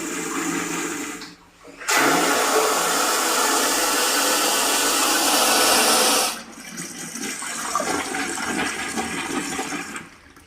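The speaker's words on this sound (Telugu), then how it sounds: "ఫ్లాష్ చేసి చూపిస్తాను. ఇదిగోండి ఫ్రెండ్స్, బ్లూ లైట్ అనేది వెలుగుతుంది అక్కడ ఫ్లాష్ చేయగానే. ఇదిగోండి వాటర్." A tankless wall-mounted toilet flushes with a loud, close rushing surge of water lasting about four seconds, preceded by a brief lead-in and followed by a softer, steady refilling hiss, with no talk.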